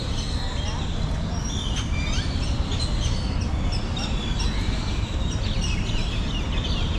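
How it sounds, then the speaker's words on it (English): Many birds chirp and call in quick, overlapping bursts over a steady outdoor rumble along a hiking route in Puerto Vallarta, Mexico, with lively calls scattered throughout. "Tons of birds just chirping."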